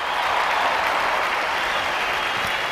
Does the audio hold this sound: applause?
yes